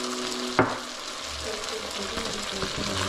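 Basil dropped into a longnose gar gumbo seasoned with Old Bay, sizzling steadily in the pot with a brief clatter at the start and continuous frying hiss throughout.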